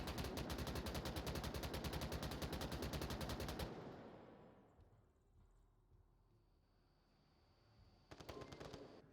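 Dense automatic gunfire in an Onward VR competitive match, loud continuous bursts for several seconds, then quieter ambient sound before another short burst of shots near the end.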